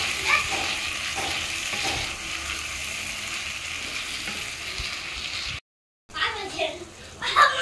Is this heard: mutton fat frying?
yes